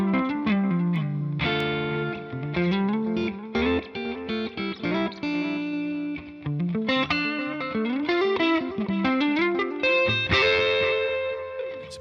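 Electric guitar played through a TONEX JS Copper Gold Alt 4 amp preset with a little delay, a distorted, ringing melodic phrase of sustained notes and chord stabs with echo trailing behind, loud and alone.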